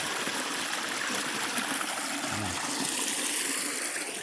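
Water flowing steadily in a creek, a continuous close rushing and trickling with no talk.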